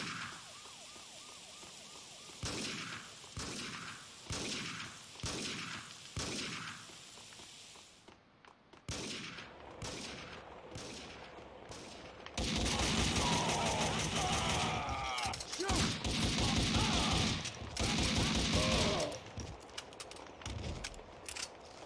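Gunfire in the video game Max Payne 2, a series of sharp shots spaced out at first, then a denser, louder stretch of rapid firing with crashing noise.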